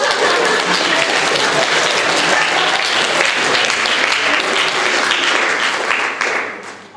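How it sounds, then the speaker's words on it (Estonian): An audience at a Järvamaa primary schools' tournament gives loud, sustained applause, steady throughout and tapering off at the very end. "Plaksite kõik mulle."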